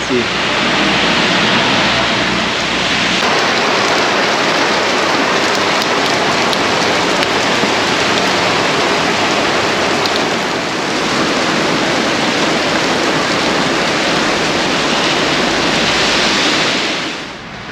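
Heavy rain pours steadily over Florence, Italy, a loud, dense wash of drops drumming on surfaces around a petrol-station shelter, continuous throughout with no talking.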